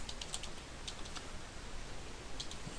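A file name typed on a computer keyboard: quick, faint clusters of key clicks in short bursts over a quiet room hiss, with no talk.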